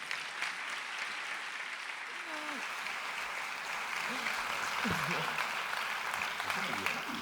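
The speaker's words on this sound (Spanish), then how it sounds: "Un fuerte aplauso para Carmen Agustín" A conference audience claps loudly and steadily in a hall, welcoming a speaker for a talk about nuts, the dense applause filling the whole clip with a few scattered voices and cheers mixed in.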